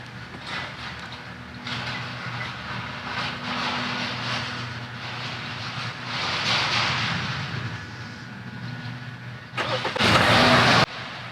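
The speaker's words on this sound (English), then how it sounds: "Here you go, car started." A 2015-2019 Hyundai Sonata engine starts by key fob remote start, a steady mid-pitched idle building and ending in a loud burst of cranking, heard close with no talk.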